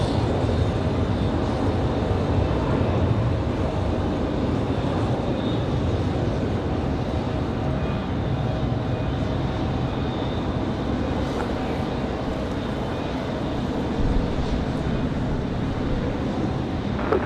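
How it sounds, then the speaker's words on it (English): A Lufthansa Airbus A330 heavy jet departing on takeoff from Raleigh-Durham International, its steady broadband roar filling the scene continuously at moderate distance with no voices. "So we're gonna have that Lufthansa A330 departure."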